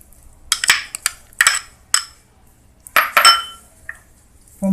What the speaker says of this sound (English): One by one you can mix all the veggies and the fruits.